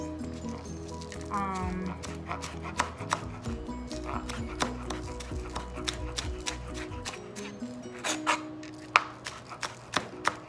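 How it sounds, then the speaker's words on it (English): A knife finely chops chives on a board in quick, irregular taps that grow sharper toward the end, close by, over soft tonal background music during the first part. "which I'm going to finely chop so that we can put in our cream cheese mix"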